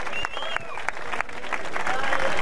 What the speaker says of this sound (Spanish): Un aplauso para los cuatro,